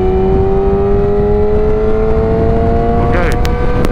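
A motorcycle held at full throttle in sixth gear from about 80, a loud, steady engine drone with a smoothly rising tone and heavy wind rush throughout.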